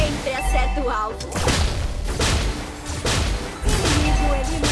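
Layla firing shots in Mobile Legends, a run of loud blasts and booming impacts in quick bursts, layered with game effects and a character voice.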